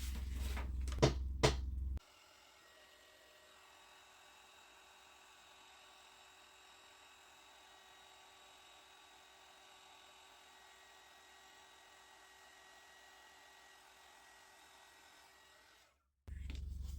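A heat gun melts embossing powder on a card, giving a steady, faint high-pitched whine that runs evenly for about fourteen seconds after a brief burst of louder handling clatter.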